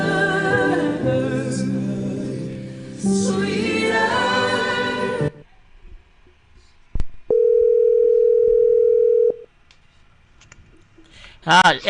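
A steady electronic tone sounds for about two seconds after a click, following a stretch of talking, with faint clicks and quiet room noise around it.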